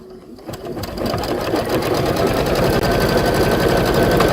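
A sewing machine stitches a quarter-inch seam, a close, loud, steady mechanical whir with a fast even rhythm that builds up after a brief start.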